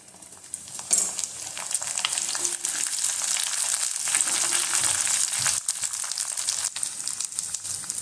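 Split green chillies hit hot coconut in a pan for a Kerala beef fry, setting off a steady, loud sizzle with crackling bursts and stirring scrapes that holds for the whole stretch.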